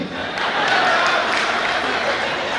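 Crowd at a kavi sammelan poetry gathering during an annual fair festival applauding, a loud continuous roar of clapping and cheering throughout.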